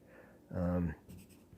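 A General's 8B graphite pencil drawing on paper makes one short, dense scratching stroke, close and clear, with faint breathing before and after.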